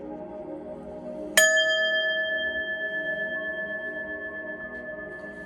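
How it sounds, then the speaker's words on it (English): A single bell is struck once, ringing out with a sharp attack and a clear, sustained metallic tone that slowly fades over several seconds in an otherwise quiet room. "I'm going to hit the bell, clear your energy"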